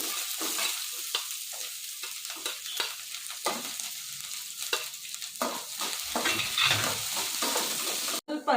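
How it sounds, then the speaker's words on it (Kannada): Onion hitting hot oil in a pan and frying for a bean stir-fry, with a steady loud sizzle and repeated scraping stirs throughout. A brief clatter comes near the end. "ಈಗ ಈರುಳ್ಳಿ ಹಾಕ್ಕೊಳ್ತೀನಿ."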